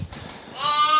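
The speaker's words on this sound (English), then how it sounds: "The horrible thing about using a bag is that all the sheep start shouting." Sheep bleating during lamb adoption at lambing time, a loud sustained harmonic bleat building in the second half after fainter low rustling and murmurs, close to the listener.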